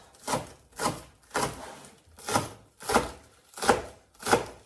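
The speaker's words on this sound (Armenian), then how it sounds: "բնականաբար կանաչին ենք կտրտում, ես նախընտրեցի համեմ սոխ" Coriander and green onion being chopped with a knife, seven evenly spaced, crisp chops landing about every two-thirds of a second, close and clear with nothing else underneath.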